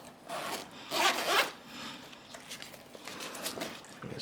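Zipper on a 2016 A Bathing Ape red camo two-way tote day backpack being pulled open, close-up raspy zips in a few quick strokes with soft rubbing of fabric between them.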